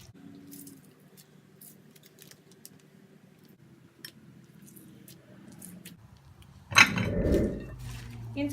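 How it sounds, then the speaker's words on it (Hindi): Vegetables, coriander and lemon juice for Lahori pakora batter are stirred together in a bowl, with soft clinks and light tapping, then a louder wet squelching stretch of mixing close up; a person speaks. "इन सब चीज़ों को हम मिक्स कर लेंगे"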